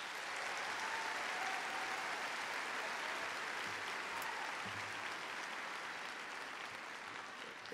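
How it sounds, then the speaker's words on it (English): At Hazen High School's commencement ceremony, an audience applauds in a broad, continuous wash of clapping that sounds somewhat distant and soft, tapering slightly toward the end. "If we could please give them a round of applause."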